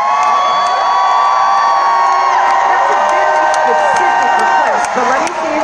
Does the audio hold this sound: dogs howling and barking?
no